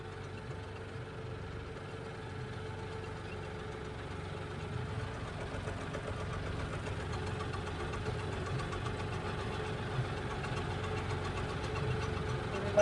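An International tractor engine runs steadily at night with no brakes working, a continuous low idling chug with a knocking edge that stays even and fairly close throughout.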